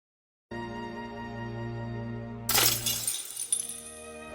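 Glass shatters with a sudden bright crash over a sustained music bed in an anime scene from Call of the Night, followed by scattered tinkling fragments settling as the music continues.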